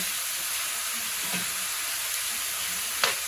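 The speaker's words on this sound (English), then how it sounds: "Let that fry just a little." Thin steak slices with garlic fry in a pan, giving a steady close, even sizzle throughout with a faint clink near the end.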